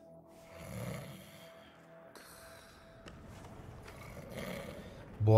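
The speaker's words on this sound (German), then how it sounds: "Boah, Dicker, ist der am Schnarchen, ey." A Hitman video game character snores loudly in slow, rasping breaths, each drawn-out snore swelling and fading against a quiet in-game background.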